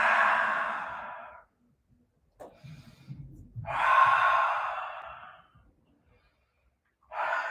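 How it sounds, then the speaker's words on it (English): Slow, deep breaths during a yoga class: two long, loud exhales separated by quieter rustling, then a third breath begins, close and unaccompanied by speech. "Breathe."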